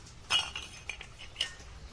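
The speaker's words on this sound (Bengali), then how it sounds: "এখন ঢাকুন দিয়ে একটু ঢেকে দাও" A lid set onto a small toy cooking pot in a children's mini kitchen gives a light metallic clink near 0.3 seconds, followed by a few fainter ticks and a second small clink, all close and quiet with no talking.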